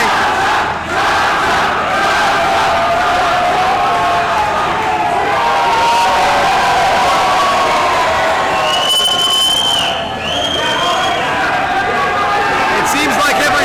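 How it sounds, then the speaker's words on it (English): A crowd at a wrestling show held in a brewery in Hialeah cheers and chants loudly and steadily throughout, a dense roar of many voices with rhythmic shouting that peaks briefly toward the end. "not only do the crowds grow, but Cha-Cha Charlie chants get louder and louder."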